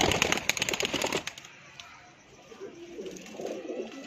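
Pet pigeons, a female and her male mate, give soft cooing calls after an opening burst of wing flapping, fairly close and quiet, with someone talking nearby.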